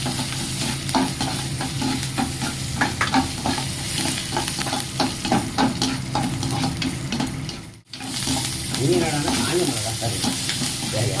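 Dried red chillies and asafoetida frying in hot oil with curry leaves, giving a steady loud sizzle broken by frequent spatula scrapes and stirs, with a brief drop-out near the end and no talking.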